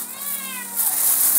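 A cat meows up close in a couple of drawn-out, rising and falling calls, loud and clear over a quiet indoor background.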